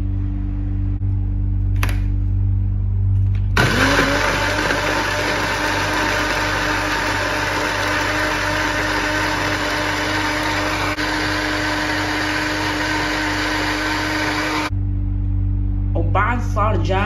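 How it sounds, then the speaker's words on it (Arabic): A blender whirs loudly and steadily for about eleven seconds while blending lemon and ginger juice with water, starting and stopping abruptly, with a faint voice before and after. "راح اضرب الخلاط لخمسة ثواني."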